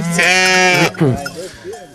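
Sheep bleat loudly and close by during milking at a mountain pasture in Verkhovyna, with one long wavering bleat followed by shorter cries.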